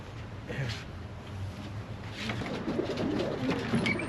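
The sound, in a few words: racing pigeons cooing in a loft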